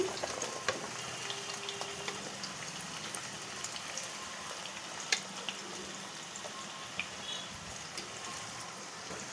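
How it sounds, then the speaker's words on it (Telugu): Thinly sliced onions fry in well-heated oil for a methi chicken curry, a steady soft crackling sizzle with scattered pops, fairly quiet and continuous with no one talking. "దోరగా వేసుకోవాలి బాగా దోర వేసుకోకపోతే కూర బాగోదు ఎర్రగా వేగాలి"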